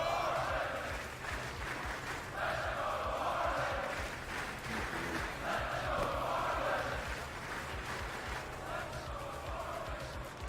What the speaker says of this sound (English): I have the ambient crowd noise and everything set fairly high